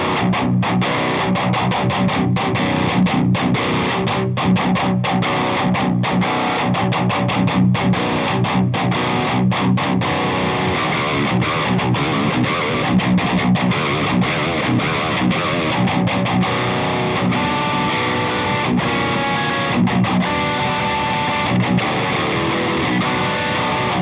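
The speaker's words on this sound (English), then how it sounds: "So that's what the GE7 does. together with all 3 overdrives in front of it." A Telecaster electric guitar runs through three overdrive pedals and a Boss GE7 equalizer, playing a dense, heavily distorted riff with tight palm-muted chugs and stops, loud and continuous for the whole stretch.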